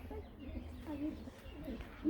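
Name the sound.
pigeons that flew down to drink water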